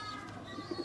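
Highflyer breeder pigeons offered for sale in Faisalabad coo softly at close range, with a couple of low throaty coos standing out over a steady hum of birds and background noise in a short burst.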